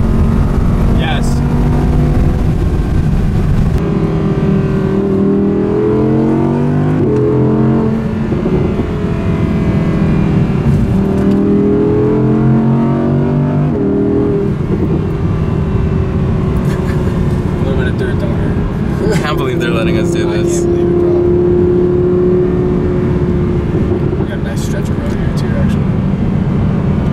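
Audi R8 V10 engine accelerating in a racing video game: a loud, sustained engine drone with rising and falling pitch through gear changes, running continuously with people talking over it.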